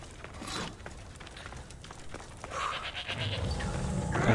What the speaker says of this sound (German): Eine Ziege erwartet uns auch.